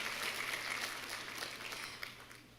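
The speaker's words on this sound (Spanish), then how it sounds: "un aplauso a las personas que han intentado algo así 15 veces" Faint, steady applause from a church congregation fills a couple of seconds as a soft wash of clapping, distant and even, with no clear voices over it.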